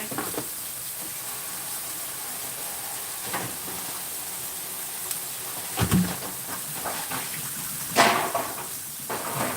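Tap water runs in a steady hissing stream while a pan is cleaned in a kitchen, with a few louder splashes standing out.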